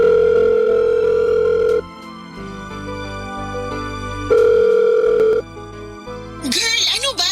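A phone call tone sounds in long steady beeps, two loud sustained tones separated by a pause, under background music in a Tagalog radio drama, followed by a voice answering.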